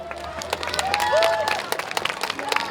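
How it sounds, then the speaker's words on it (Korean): Festival crowd applauding at a community neighborhood event, a loose patter of clapping that stays fairly soft and scattered, mixed with a sustained tonal whistle-like sound and some background murmur. "여러분들 큰 박수 부탁드립니다"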